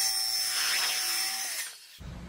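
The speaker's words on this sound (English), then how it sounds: "Next thing I'm gonna do is just trace across those lines to cut." Power saw cutting wood along traced notch lines for a car bed platform, a steady loud whine for about a second and a half that then cuts off, followed by a faint low rumble.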